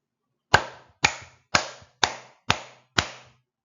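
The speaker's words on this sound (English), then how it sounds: "Loud clap. Clap your hands with more force." Six loud, forceful hand claps, sharp and evenly paced about half a second apart, each ringing briefly in the room, with no one speaking.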